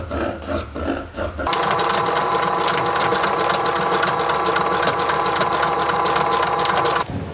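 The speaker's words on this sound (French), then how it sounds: "j'ai fini de coudre les chouchous" A sewing machine stitches fabric scrunchies with a steady, loud, continuous running hum and rapid needle chatter for several seconds, after a short quieter lead-in with faint background sounds.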